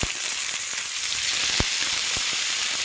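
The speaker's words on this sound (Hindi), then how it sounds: "सिझिला पर्यंत भल भाव में भाजी देबा" Chopped onion and tomato frying in oil in a pan, a steady close sizzle broken by a few sharp clicks of stirring, with no talk.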